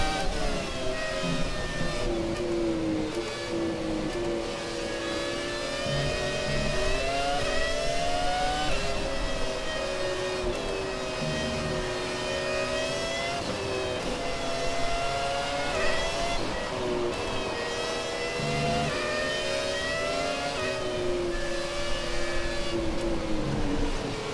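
A Haas Formula 1 car from the F1 2017 game races at Monza, its high engine whine rising and falling steadily through gear changes and corners, continuous and close with no talk.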